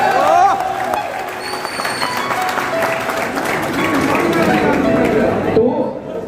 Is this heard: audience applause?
yes